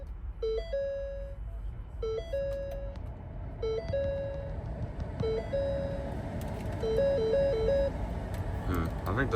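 A repeating two-tone electronic chime from a 2014 Ford Flex SEL with a dead battery sounds in short bursts about every one and a half seconds, clear over a low steady rumble.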